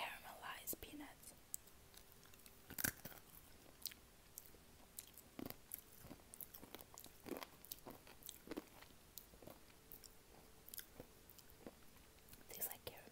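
Quiet, close crunching and chewing of caramelized peanuts from a trail mix snack, irregular bites spread across the stretch with soft whispered talk in between.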